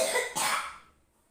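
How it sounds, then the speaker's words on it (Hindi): Two quick, close coughs in succession, the second trailing off into quiet. "कितना खांसी आ रही"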